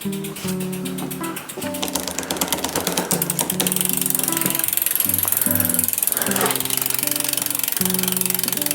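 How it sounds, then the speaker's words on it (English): The chain of a Rock Hopper bicycle slips off the pulley wheel with a burst of rapid mechanical clicking and ratcheting. Steady tonal sounds, like background music, run underneath throughout. "the chain is slipping off the pulley wheel"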